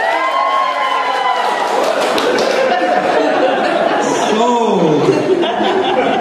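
An audience cheering and laughing together, a dense loud crowd roar of mixed voices and whoops that holds steady throughout, with someone speaking over it.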